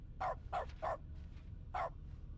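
A human voice imitates a dog barking with four short bork-like yelps, three in quick succession and one after a pause, over quiet background noise.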